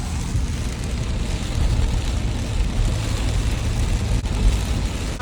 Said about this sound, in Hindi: आवाज़ आ रही है, बारिश ना जोर से पड़ रही है ना, गाड़ी पे आवाज़ें आ रही है, टक टक टक टक टक टक।